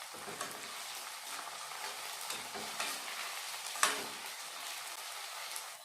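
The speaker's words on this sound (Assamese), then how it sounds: "আদা নহৰুখিনি কেঁচা গোন্ধটো যোৱালৈকে এইখিনি এতিয়া ভাজি ল'ম।" Onion, ginger, garlic and chili paste fry in a pan with a soft continuous sizzle, broken by occasional scrapes and stirs of a utensil, close and fairly quiet with no voices.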